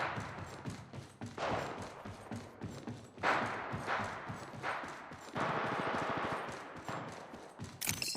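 Gunfire from the mobile shooter Apex Legends Mobile played on a Galaxy S21 5G, with dense bursts of rapid shots in several loud waves, broken by short lulls and ending on a sharp burst.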